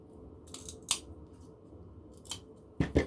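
Scissors trimming a small mosaic tile piece for a slate craft, several sharp close snips at uneven intervals with a quiet room between them and a final double cut.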